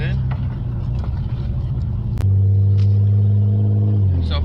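A Nissan Altima SE-R pulls away in drive after a camshaft position sensor replacement, its engine a low steady rumble that swells and holds firmer partway through, heard close from inside the car.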